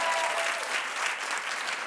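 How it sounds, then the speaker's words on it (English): A television talk show studio audience claps together in a dense, sustained round of applause, loud and close, with no talking over it. "Clap if you saw Magic Mike 1."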